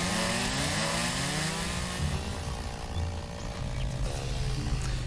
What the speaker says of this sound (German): Kettensäge.